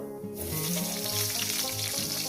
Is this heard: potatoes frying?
yes